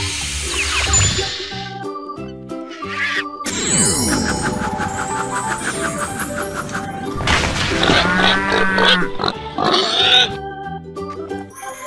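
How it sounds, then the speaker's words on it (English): A pig oinks and grunts within a children's animal sound nursery song, with the calls blended into bright, busy music that plays loudly throughout, including chime-like jingles. "The pig."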